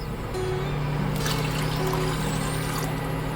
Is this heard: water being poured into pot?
yes